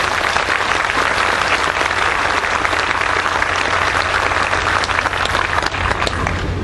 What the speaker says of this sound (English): Let's give another great round of applause for Governor Mike Foster.